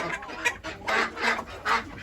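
Call ducks on a farm quack in short, loud bursts, several calls in a row close by, alongside other poultry including roosters and bantams.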